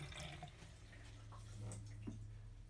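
Cold water running from a sink tap in a 1969 Fireball camper, a faint, steady hiss of flow with a few soft drips, heard alone without voices.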